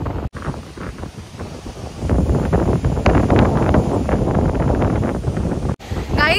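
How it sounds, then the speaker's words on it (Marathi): Strong wind buffeting the microphone outdoors on a family day out, loud roaring gusts that swell and build toward the middle, with no voices. "हा वारा किती वारा आहे हा"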